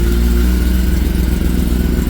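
A 2026 Kawasaki ZX10R sport motorcycle with the catalytic converter removed idles steadily on a dyno nearby, a deep, even rumble that stays fairly loud and smooth throughout, with no voices.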